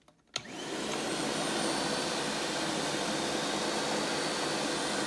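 A Tristar MG2 canister vacuum cleaner is switched on with a click, and its motor rises within a second to a loud, steady, slightly high-pitched whooshing whine that holds evenly to the end, with no one talking.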